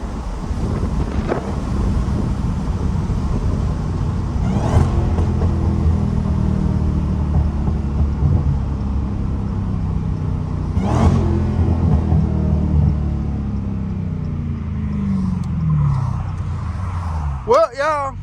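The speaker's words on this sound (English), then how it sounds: "Just know if I'm not talking, that supercharger talking. See, listen to it." Dodge Hellcat's supercharged engine revving and whining, a loud continuous roar with rising and falling surges and wind buffeting, heard from inside the moving car while someone talks over it.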